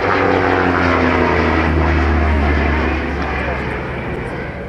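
A Jet Provost trainer making a low pass at the Halton Air Show in 2008 gives a loud, steady engine roar that holds throughout and eases off slightly near the end, with people talking over it.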